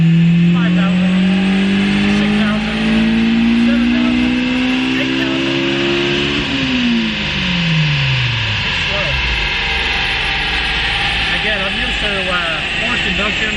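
A Honda S2000 engine with a cheap aftermarket header revs on a dyno, its pitch climbing slowly and steadily through the RPM range before dropping sharply as the throttle closes, loud and close, with faint talk in the background.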